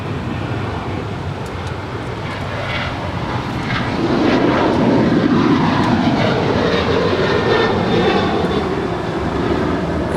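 United Airlines Boeing 737-900ER jet at LAX, eight years old, departing for Washington Dulles: a steady broadband jet roar that swells louder midway and holds as a sustained rumble, with no voices over it.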